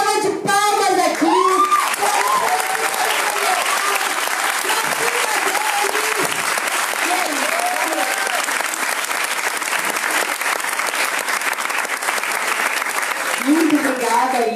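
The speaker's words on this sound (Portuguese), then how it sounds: "Quero uma salva de palmas aqui." Loud, sustained applause from an audience at an open political plenary session, a dense wash of clapping lasting throughout with some voices mixed in.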